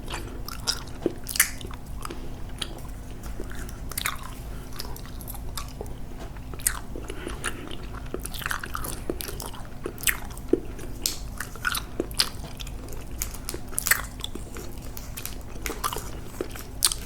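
Close, steady chewing and biting of sour gummy candy, wet squishy crunches and snaps running continuously with no talk.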